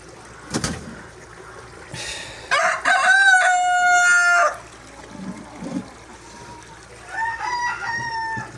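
Chickens call nearby: a long, loud drawn-out crow-like cry, then a shorter one a few seconds later, with quieter clucks and rustling between.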